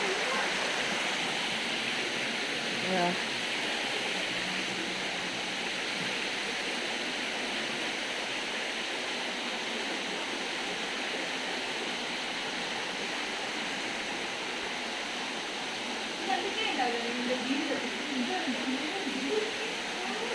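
Continuous rushing flow of water in an organic garden in Nilambur, loud and steady throughout, like a stream or small waterfall nearby.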